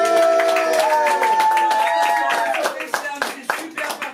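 Audience clapping for the jury at a slam poetry evening in Antibes, scattered hand claps beneath a sustained sung or musical tone, growing into sharper individual claps toward the end.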